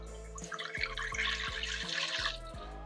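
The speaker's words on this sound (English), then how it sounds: "I'm gonna pour about half a gallon's worth of this cider into the stew pot" Apple pie cider pours from a gallon container into a stew pot, a steady liquid gush with glugging pulses, close and fairly loud, with no talk.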